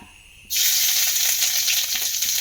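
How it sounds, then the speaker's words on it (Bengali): Grated ginger drops into about one and a half spoons of hot white oil for a potato paratha filling. A sudden loud sizzle bursts in and holds as a steady crackling hiss, close up. "তেলটা যখন একটু গরম হয়ে যাবে এর মধ্যে দিয়ে দেব গ্রেট করে নেওয়া আদা।"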